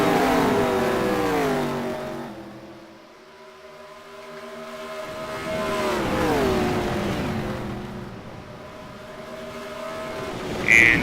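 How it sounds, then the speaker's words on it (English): Race cars in a racing video game run flat out in 6th gear against the rev limiter, a loud droning engine note that dips and rises again, with a steady close roar through most of the stretch. "where these cars will hit their limiter in 6th gear"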